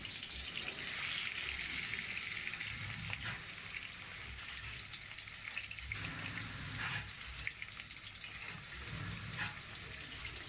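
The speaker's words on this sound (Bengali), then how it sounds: "তেল গরম হয়ে গেছে, মাছ ছেড়ে দিচ্ছি।" Rohu fish fries in hot mustard oil in a pan, giving a continuous close sizzle and crackle with a few small bursts and stirring clinks throughout.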